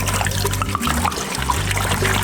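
Water poured from a container rather than the tap, likely into a pot on a gas stove for udon noodle soup, a steady close trickling stream running continuously throughout.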